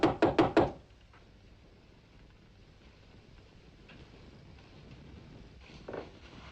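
Four quick, firm knocks on a door land in a fast cluster at the start, followed by a low, quiet room with only faint background noise and no voices.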